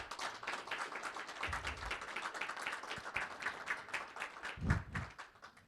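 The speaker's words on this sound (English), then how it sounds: "can we give our presenters a nice round of applause?" Quiet applause from an audience thanking presenters at a gathering, soft scattered clapping heard from a distance, with a couple of low thumps near the end.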